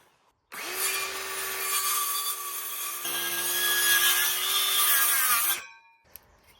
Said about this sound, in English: Let's just see what the circular saw can do.